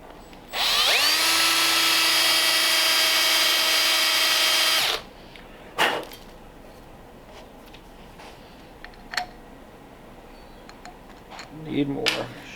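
A power tool cuts aluminum while a 1929 Ford Roadster pickup's windshield is chopped, giving a loud, steady, high whine for about four seconds that then stops, followed by a few faint knocks and clatters.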